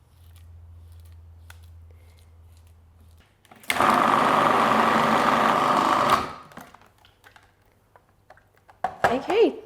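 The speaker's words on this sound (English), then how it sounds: "Once this has been processing for about 30 seconds, just give it a bit of a scrape down and then process again." A food processor blending apricot chocolate hummus runs in one loud, steady whirring burst of about two and a half seconds, with a low hum before it and quiet clatter and a voice afterward.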